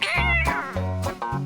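A white kitten meows several times in quick succession, clear and close, with drawn-out harmonic cries separated by short pauses.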